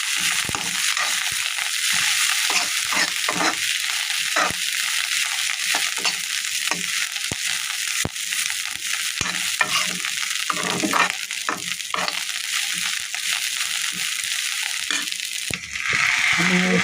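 Fresh coriander with curry leaves is stir-fried in a pan for a tomato chutney with nalleru stems, a constant close sizzle under repeated scraping and clinking stirs, with no voices.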